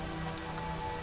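Steady rain falling on a surface, a dense, even hiss of drops with no pauses and no voices.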